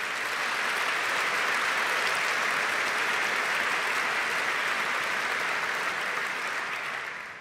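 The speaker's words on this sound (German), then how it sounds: "Applaus" An audience at a 75th state anniversary ceremony in Niedersachsen gives a steady, sustained round of applause that stays full and even for about seven seconds before tapering off.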